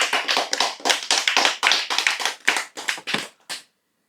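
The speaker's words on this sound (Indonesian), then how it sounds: "Tepuk tangan dong." An audience claps in a religious study gathering, a sparse, uneven run of about a dozen loud, close hand claps that thin out and stop after about three and a half seconds.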